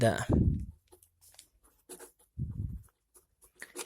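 Chalk or marker writing on a board during a physics lesson, short scratchy strokes in brief bursts between pauses, with a teacher's voice speaking near the start and middle.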